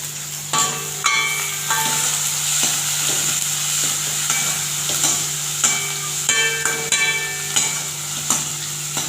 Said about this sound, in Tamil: வெங்காயம் கருவேப்பையில் பெருஞ்சீரகம் எல்லாம் போட்டு